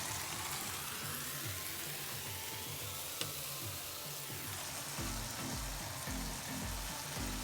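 Onions added to a pan of frying masala for qeema do pyaza sizzle steadily over low heat, a continuous close hiss with faint stirring and no talking.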